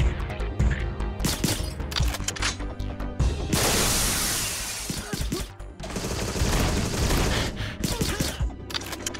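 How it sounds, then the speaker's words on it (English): Boxes explode in the Agent 64 spy shooter game, with loud crashing blasts and rattling bursts over continuous game audio and music. "Now, exploding boxes, I can do without that."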